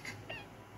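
A pet cat gives two short, quiet meows close by in a quiet indoor room, with no one speaking.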